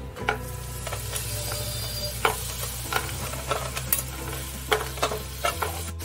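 Crab claws are added to hot oil with Malvani masala and sizzle loudly up close, with scattered scraping and stirring clicks over a continuous frying hiss.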